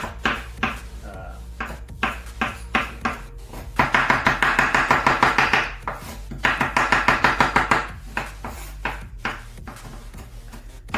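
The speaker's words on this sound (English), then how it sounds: "So we're going to take some basil and finely chop it." A knife chops finely through fresh basil on a board, rapid close taps coming in quick bursts with short pauses between them, and a voice speaking softly underneath.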